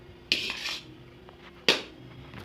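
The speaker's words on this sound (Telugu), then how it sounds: "అమ్మ కలుపుతుంది ఇప్పుడు పులిహోర." Tamarind rice being mixed by hand in a metal vessel, heard as two clattering scrapes of utensil against the pot with quiet stretches between.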